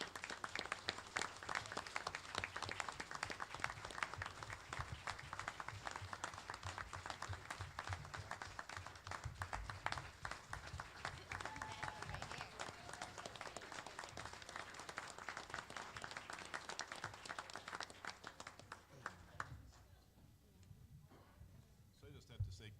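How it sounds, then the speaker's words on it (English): Audience applause at a school board meeting, steady dense clapping sustained for around twenty seconds at moderate distance, then fading out near the end. "We're going to miss Jerry, so let's give him a round of applause."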